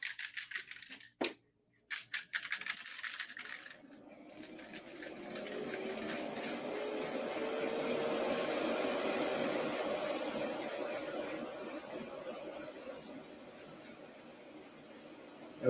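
Spray paint hisses onto a brick in a series of short bursts, each spray a steady airy rush that swells and holds through the middle, with a few clicks and pauses at the start.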